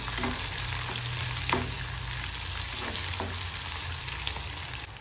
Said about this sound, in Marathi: थोडा लसूण, हिरवी मिरची, कांदा सगळ्याला चांगलं परतून घ्यायचं लालसर होईपर्यंत।